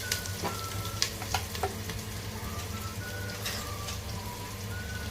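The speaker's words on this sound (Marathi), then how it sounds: "लालसर होईपर्यंत भाजून घ्यायचं आहे" Peanuts and onion roast in a pan with a soft, steady sizzle and a few light scraping stirs near the start, faint and even throughout.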